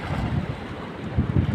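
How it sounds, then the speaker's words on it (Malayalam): Steady wind buffets across open water beside a fishing boat during net casting, a dense low rushing roar with gusty swells and no voices. "നല്ല കാറ്റുമുണ്ട്"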